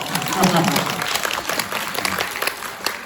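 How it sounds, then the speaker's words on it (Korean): An audience claps throughout, a dense patter of hands at fairly close range, with a voice briefly audible over it near the start. "박수를 좀 제대로 쳐주세요."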